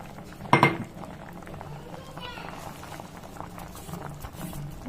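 A pot of spice mixture made from roasted cumin, fenugreek and curry leaf powder bubbling on the stove: a soft, steady simmer with small popping bubbles, after a short clatter of a utensil against the pan.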